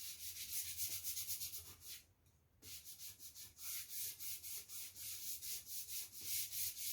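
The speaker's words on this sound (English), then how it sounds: "I'm using a foam brush, just dipping it in, and I'm rubbing it into the canvas" A foam brush rubs gesso into a wood canvas in steady back-and-forth strokes, each swipe a soft, close scratchy rasp, with a brief pause midway before the rhythmic rubbing resumes.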